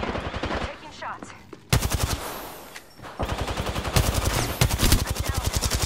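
Automatic gunfire in an Apex Legends match, rapid evenly spaced bursts of loud shots in two long volleys separated by a brief lull, with a faint voice underneath.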